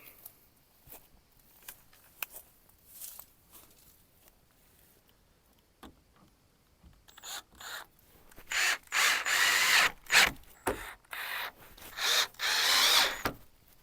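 A power drill whirs in several short bursts, driving screws into wood on a rainwater harvesting system, after a stretch of quieter clicks and handling noises.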